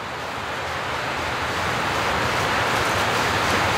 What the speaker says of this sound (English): The wind's nasty.